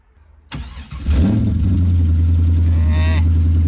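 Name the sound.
car engine running with exhaust manifold leak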